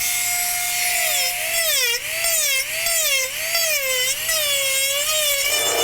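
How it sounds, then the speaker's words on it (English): An angle grinder fitted with a cut saw bit shaping the ears of a sculpture, giving a loud close whine that wavers up and down in pitch as the tool is worked, then trails off at the end. "I'm just taking a cut saw bit and my grinder here, and we're gonna make it have some shape"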